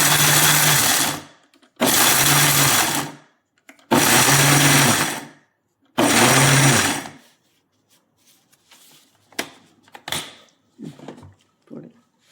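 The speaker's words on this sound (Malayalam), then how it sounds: "ഈ മിക്സിക്കകത്ത് വലിയ ജാറാണ് എടുത്ത്, അതിലായിട്ട് ഇത് ജസ്റ്റ് ഒന്ന് പൊടിഞ്ഞ് കഴിഞ്ഞിട്ട് മതി" Mixer grinder with a large jar grinding nuts, four loud whirring bursts of about a second each separated by short pauses, then quieter clatter and knocks as the jar settles.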